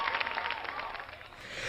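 A concert crowd claps along at a rap performance, a busy continuous spatter of hands under cheering voices, moderately loud throughout.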